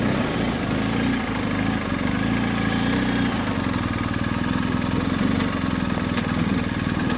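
BMW R1250GS adventure motorcycle being ridden, its engine throbbing loud and continuous up close under heavy rushing wind noise.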